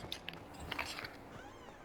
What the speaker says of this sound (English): Wow, cats everywhere.